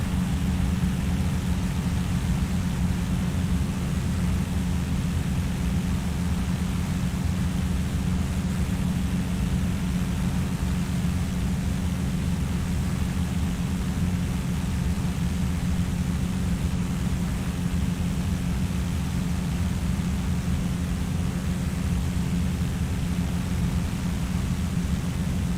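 Airliner engine roar in the X-Plane flight simulator, a loud, steady broadband drone that holds evenly without pause, with no talk over it.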